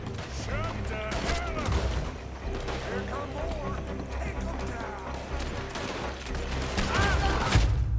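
Shotgun fire and other gunshots in the video game Red Dead Redemption 2, repeated blasts amid a busy battle mix with music and game voices, a player talking over it.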